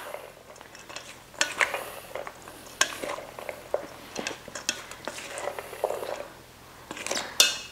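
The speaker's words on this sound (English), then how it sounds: "Okay, so now the cabbage is all done. So now you just mix it all up." Shredded cabbage filling for spring rolls is tossed and mixed in a bowl, giving soft rustling and irregular clinks and scrapes of a utensil against the dish, close and moderately quiet.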